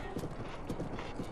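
Horse hooves clip-clop steadily in Breath of the Wild, a continuous close rhythmic trotting on the ground with no talk over it.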